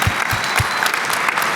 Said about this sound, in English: Can we get a round of applause for Concerned Veterans of America